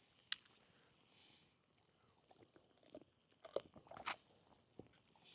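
A dog gnaws a large smoked bone at a frosty Michigan camp, with scattered faint crunches and bites that build into a louder cluster of crisp cracks before trailing off.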